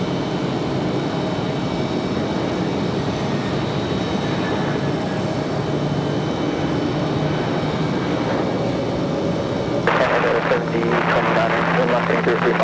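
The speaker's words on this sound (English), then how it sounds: "Buttery smooth touchdown for Aeromexico." An Aeromexico Embraer E190 jet touches down at Raleigh-Durham airport, its steady engine roar filling the scene with a brief louder burst of rushing noise near the end, as a voice talks over it.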